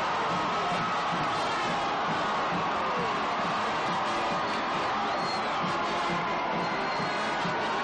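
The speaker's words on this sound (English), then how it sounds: "And the crowd absolutely going nuts." A large crowd roars steadily at a high school state semifinal football game after a long rushing touchdown, a dense, continuous wall of cheering and shouting heard from within the stands.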